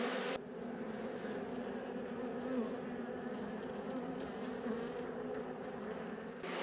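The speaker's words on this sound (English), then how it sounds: "Oh, lots of bees on the other side of this one." Honey bees hum in a dense, continuous drone from a frame lifted out of an opened, late-season hive, close and even throughout.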